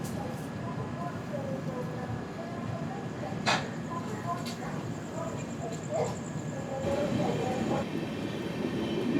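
The 16332 Express passes through Pettah station heard from inside the coach: a steady low rumble of wheels and carriage with occasional clanks and faint high squeals, fairly constant in level.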